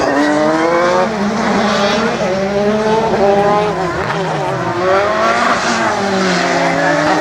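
A Dallara F301 single-seater race car at a slalom event, its engine screaming loud and close with rapid rising and falling revs through gear changes and turns, with brief tyre squeal.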